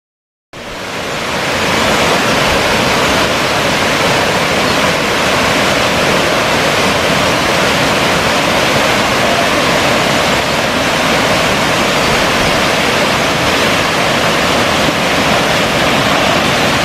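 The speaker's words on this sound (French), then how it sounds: "nous sommes à la grande cascade" Large waterfall at Mont-Dore roars as a loud, steady, broad rush of falling water, starting abruptly and continuing unbroken close by with no voices.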